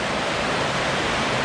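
Water pours as a waterfall inside a masonry dam tunnel at Muddy Run, a loud, dense, unbroken roar filling the space close by, with no voices.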